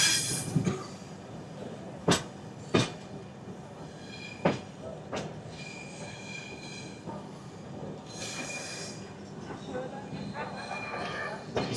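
Running on its rails, the Kanyakumari–Dibrugarh Vivek Express rumbles steadily. Several sharp wheel clanks and a stretch of brighter metallic grinding rise out of the din, and a voice is heard faintly now and then.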